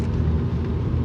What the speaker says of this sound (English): Sorry guys, I'm driving.